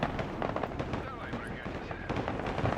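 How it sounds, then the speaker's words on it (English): A dense, crackling preliminary artillery bombardment rumbles through the WARNO war game, with overlapping booms and pops filling the mix and a voice talking over it. "Some sort of preliminary bombardment."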